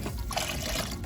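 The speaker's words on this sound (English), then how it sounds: "So what I'm going to do next is to pour in the chicken broth." Chicken broth poured into a soup pot for homemade creamy rotini chicken noodle soup, a short steady close splashing stream of liquid with no talk.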